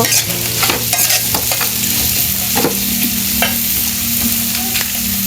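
Black cumin seeds frying and being stirred in hot oil for a village-style kalojira bharta, a steady close sizzle with repeated scraping stir strokes and a low background hum, no talking.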